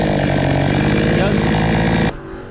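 A Stihl chainsaw that stalls after running a while fires up and revs loudly and close for about two seconds, then cuts out abruptly, leaving a faint low hum.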